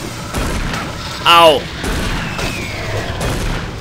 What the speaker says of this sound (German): Drei Schuss mit der Schotti?